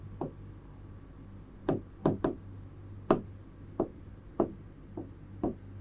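Chalk or marker writes on a classroom board in a chemistry lesson, making about ten short, separate taps and strokes at uneven intervals over a quiet, steady hum.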